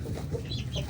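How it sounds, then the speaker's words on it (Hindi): A hen clucks close by in a backyard coop on a cold, rainy day, a few short soft clucks in quick succession with no talk. "ये मुर्गी भी मार रही है जी।"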